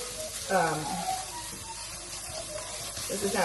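Plant-based beef fries in an oiled pan over medium heat, a steady soft sizzle running throughout with brief clatter of stirring, under a voice talking.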